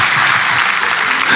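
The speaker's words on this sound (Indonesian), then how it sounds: "Kasih tepuk tangan untuk Tuhan Yesus." Church congregation applauding during a Christian sermon, a loud, dense burst of clapping filling the room for a brief moment.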